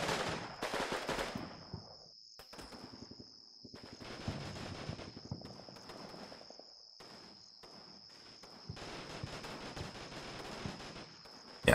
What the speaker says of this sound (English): The old light machine gun seems to be doing a good job of that machine gun nest